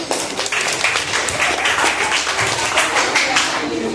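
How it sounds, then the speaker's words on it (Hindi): Students applauding classmates in a Class 8 science classroom during a friction activity, with a steady wash of claps held at an even level for four seconds while voices sound beneath. "इनके लिए तालियां बजाइए"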